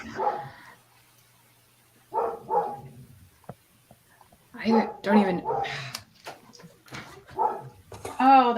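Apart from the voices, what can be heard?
dog barking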